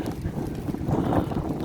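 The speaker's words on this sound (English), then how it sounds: "Oh, it's strong wind now." Strong wind buffets the microphone outdoors near a boat launch in British Columbia, a loud, continuous low rumble that swells slightly midway, with no clear voices.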